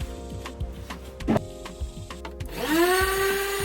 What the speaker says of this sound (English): As you see with that vacuum cleaner, you'll see a whole lot of vacuum cleaning.